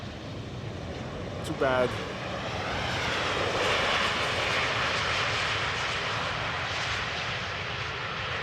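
An Embraer 195 jet lands at Amsterdam Schiphol Airport, its engines a broad, distant rumble that swells and lingers, with a brief spoken remark near the start.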